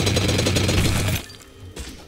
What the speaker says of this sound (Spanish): Ah, esto es un taladro.